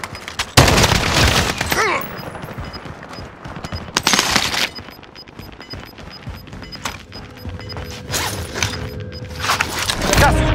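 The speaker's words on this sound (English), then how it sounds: "Taking fire over here!" Automatic gunfire in Call of Duty Warzone comes in loud bursts, with several heavy volleys broken by quieter stretches of scattered shots and debris, all close and harsh.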